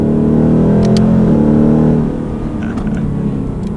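2018 Mustang GT V8 blipping through a rev-matched downshift, loud steady engine drone heard from inside the car that rises, then drops and settles at a lower pitch, with a few faint clicks.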